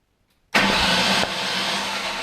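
A Ford Coyote V8 swapped into an SN95 New Edge Mustang cranks over after half a second of silence, then a loud, steady mechanical roar holds close by and eases slightly after about a second.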